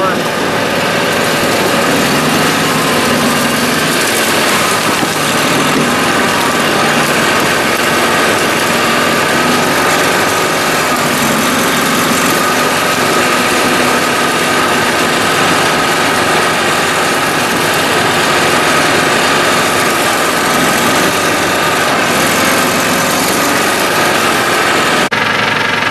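A 1994 Argo eight-wheel vehicle runs near a marsh of phragmites, its engine a loud, steady, unbroken drone close by from start to finish.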